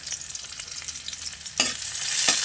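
Pepper and half a Knorr cube sautéing in a pan: a close, hissing sizzle with a couple of sharper scraping stirs near the end.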